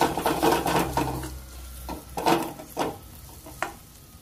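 Maggi noodles with egg and masala tastemaker being stirred in a pan, with a few loud scraping and clattering strokes close up and a soft sizzle underneath, stopping and starting irregularly.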